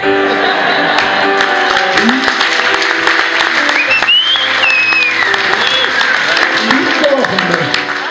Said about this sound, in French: En plus ils m'applaudissent